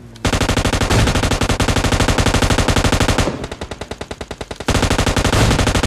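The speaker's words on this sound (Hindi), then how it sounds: "मिनी मैप पे ध्यान से देखो, सामने से फायरिंग हो रही है" Rapid sustained automatic gunfire in a shooting video game, loud dense bursts that ease briefly into slower distinct shots before the full-rate fire resumes.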